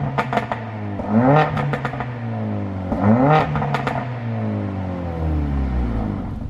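A Mercedes A45 AMG engine in sport mode revs up twice in quick succession, each rise swelling and falling back to a steady idle hum, close and fairly loud.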